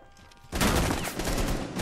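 Sustained rapid gunfire from the video game Rainbow Six Siege erupts loudly after a brief quiet start and continues as a dense, unbroken burst to the end.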